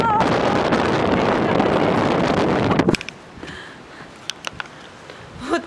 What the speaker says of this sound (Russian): Такой сегодня нереальный просто ветер.